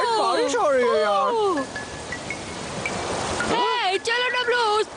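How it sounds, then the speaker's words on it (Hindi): Heavy rain pours down in a Hindi cartoon, a dense rushing wash that is loudest in the middle, with animated voices talking before and after it. "अरे बहुत तेज बारिश हो रही है यार।"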